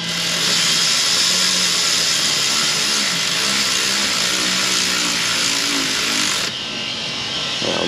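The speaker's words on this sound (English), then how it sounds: "the countertop boys are over there grinding again" Nearby grinding from a power tool working on stone countertops outdoors, a steady loud broadband whine running continuously for the whole stretch with a slight drop near the end.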